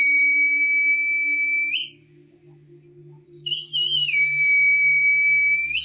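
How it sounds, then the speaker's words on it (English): Two loud, piercing blasts from a homemade survival whistle blown hard about 5 meters from the microphone, shrill and sustained, separated by a brief quiet gap; the second blast wavers in pitch. "The sound that this whistle produces is"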